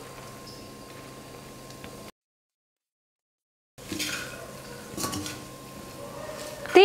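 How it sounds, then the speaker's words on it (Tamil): Cooked rice being stirred into egg and vegetables in a pan for street-style egg fried rice, with soft scraping and clinking of a utensil against the pan, briefly cut to silence midway, then growing busier and louder near the end. "இப்போ இந்த சாதத்தை சேர்த்து கலந்துக்கலாம்."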